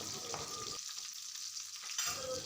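Curry leaves frying in a pan for an Andhra-style broad beans fry, a quiet hiss and crackle with a brief stir near the start and a sizzle flaring again toward the end.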